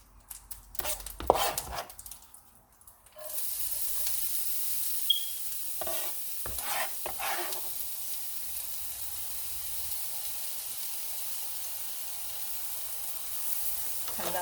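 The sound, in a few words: onions frying in fat for Marsala mushroom sauce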